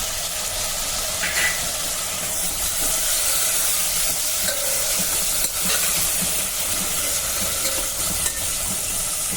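Onion, ginger and garlic sauté in a pan, giving a steady close sizzle with occasional scraping stir strokes throughout, no voices.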